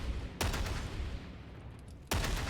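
Ogryn ripper gun in a video game firing in brace mode: two loud, sharp gunshot bursts roughly 1.7 seconds apart over a steady rumbling background, with no voices.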